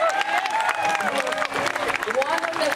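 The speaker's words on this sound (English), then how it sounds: "I want a very big applause for el maestro" A crowd claps and cheers continuously at the Lowell Folk Festival while someone talks loudly over the applause.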